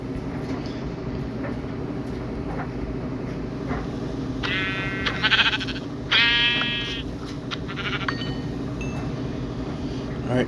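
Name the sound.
sheep bleating in the video game Minecraft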